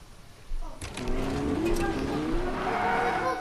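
A supercar in the video game Fortnite starts up and drives off, its engine rising into a loud, steady revving drone with tire noise, heard alone.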